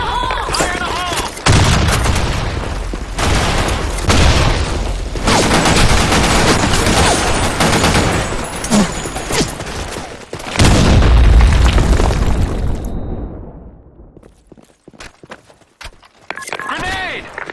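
Grenade explosions and bursts of gunfire fill a tactical shooter battle, with loud booms and rapid rattling shots in close succession, then fading into scattered distant pops while voices shout over the action.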